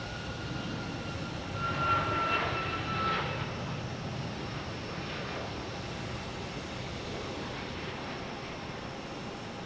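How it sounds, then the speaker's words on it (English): United Airlines flight 2441, a jet airliner bound for San Francisco at Boston Logan, gives a distant, steady engine roar that rises briefly early on and then settles into an even hum, with no talking. "United Airlines heading to San Francisco. Flight 2441."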